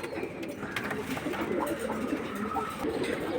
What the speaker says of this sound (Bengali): এটা সিলভার লাইনের কাজ করা কবুতর।